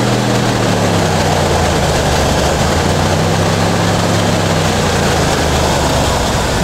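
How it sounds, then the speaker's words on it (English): A car engine held at 2000 RPM runs loud and steady, a constant low drone and roar without letup. "rev the engine to 2000 RPMs and hold it."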